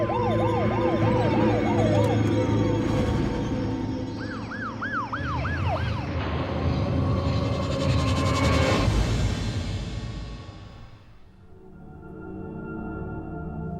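An ambulance siren wails continuously, its rising and falling tone sweeping repeatedly over traffic noise, loud and close before fading toward the end.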